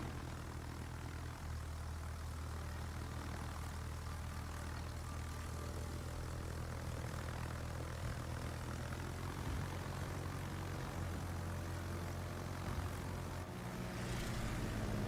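Fighter aircraft engines drone continuously in the naval video game World of Warships, a steady propeller-plane hum that swells slightly near the end, with no talk.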